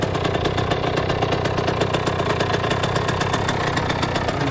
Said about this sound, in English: Young fella's just warming up his bike.